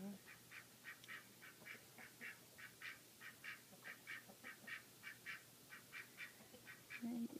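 A rufous hummingbird gives a steady run of sharp, high chip notes, repeating every fraction of a second at moderate loudness. There is no talking.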